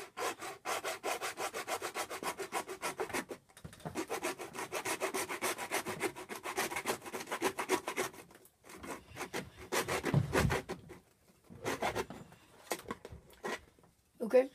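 Hand sawing through a plastic bottle cap just below the threading, a steady rhythmic rasp of back-and-forth strokes, close and fairly quiet, pausing briefly a few times.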